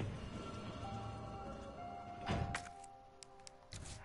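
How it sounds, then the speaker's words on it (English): A grenade launcher fires in Resident Evil 3, a single dull thunk with a short burst of noise midway through, over a steady low hum of game ambience. "Grenade now."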